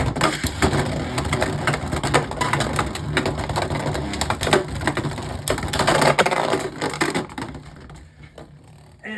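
Beyblade X spinning tops clash in a stadium, a Dranzer S against a rival, with rapid rattling clicks and sharp hard-plastic impacts that thin out as one top flies out and the spinning winds down.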